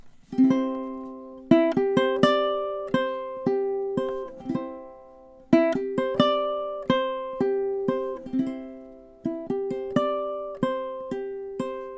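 A ukulele repeats the same short ending riff three times, bright picked notes ringing out clearly with brief pauses between passes.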